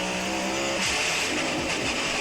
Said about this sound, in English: The gearbox exploded. All that power had destroyed the gearbox entirely, with it sounding absolutely dreadful.